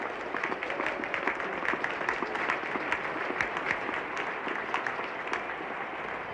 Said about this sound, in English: Applause then for the 450.